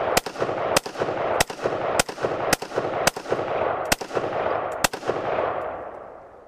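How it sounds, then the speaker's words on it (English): Eight loud, sharp AR-15 rifle shots fired at a moderate, slightly uneven pace, each with a quick ringing decay, the last two spaced further apart. "Ready to fire whenever you're ready to pull that trigger."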